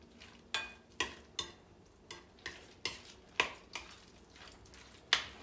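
A spoon mixes a thick slice of diced ham into frittelle batter, giving about ten soft, wet strokes at an even pace, close up with no talking.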